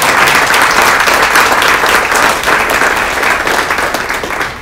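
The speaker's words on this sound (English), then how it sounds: "So I'd ask you to, one more round of applause." Applause from an audience at a chamber of commerce State of District 4 event in San Antonio, a dense, steady wash of many hands clapping that holds loud throughout and tapers slightly at the end.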